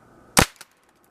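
A homemade explosive paintball loaded with sixteen ring caps bursts against a tree: one sharp, loud crack outdoors, then a brief fainter echo or second pop before quiet.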